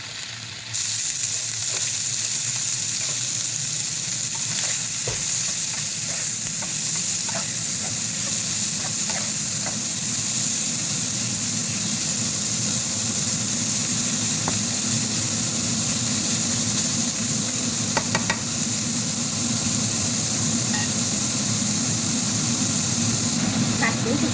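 Fatty pork belly stir-fried with cabbage in a hot pan, a loud continuous sizzle with scattered crackles and spatula scrapes, someone talking over the cooking now and then.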